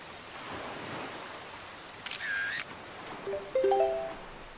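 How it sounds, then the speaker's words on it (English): Rain falls in the video game Zelda Wind Waker as a faint, steady hiss. A few bright, short chime-like game tones ring out over it near the end. "It's a bit raining."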